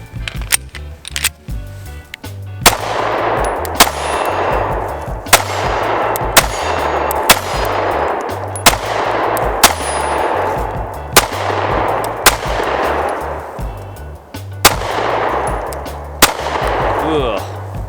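Taurus G2C pistol fired at a shooting range, a loud close series of sharp single shots spaced a second or two apart, each with a short ringing decay.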